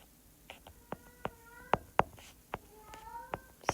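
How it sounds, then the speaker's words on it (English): A cat meows repeatedly in the background of a quiet room, a series of short, fairly faint cries spaced irregularly, with no talking. "the cat's serenading us in the background here"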